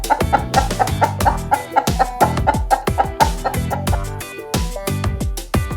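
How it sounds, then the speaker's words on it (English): A chicken clucks in a rapid, rhythmic series of loud, close calls layered over an upbeat musical backing, the clucks repeating steadily throughout with no spoken voice. "Chick says cluck cluck."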